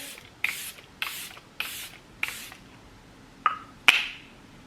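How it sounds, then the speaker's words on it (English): Several short hissing sprays from a Charlotte Tilbury setting spray pump bottle, close by, spaced about half a second apart, with a couple of faint taps after the last bursts. "So I'm gonna use a Charlotte Tilbury setting spray."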